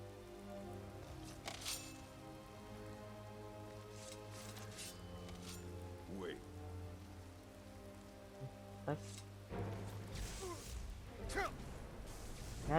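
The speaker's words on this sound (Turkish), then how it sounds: "Yağmur da bayağı bastırıyor ya." Rain falling in the video game Skyrim, a soft, steady patter under low ambient tones, with a few brief whooshes and a faint voice or breath sound partway through.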